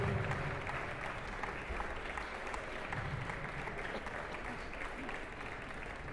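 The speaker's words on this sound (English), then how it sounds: "Let's give a round of applause." An indoor audience at a collegiate table tennis team finals applauds steadily, a dense, continuous wash of clapping held at even volume throughout.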